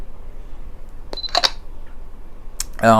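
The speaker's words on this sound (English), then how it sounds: "This is the boot up sound." A lightsaber soundfont's boot-up sound: a few crisp clicks and chirps, then a rising synthetic hum with bright tonal layers that settles into a steady drone.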